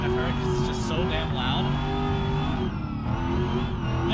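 A 1000HP Camaro ZL1 1LE in BeamNG.drive revs loudly and continuously, its engine note rising and falling through gear changes with a harsh, close, throaty roar throughout.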